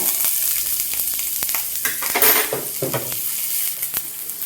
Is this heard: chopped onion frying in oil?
yes